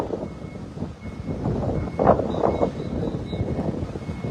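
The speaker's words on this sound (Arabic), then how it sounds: "الآن تراكتور دخل باش يجبد سيارة" A tractor reverses on a blocked road between Tetouan and Chefchaouen to pull out a stuck car, with repeated reversing beeps over a low engine rumble and gusty wind noise.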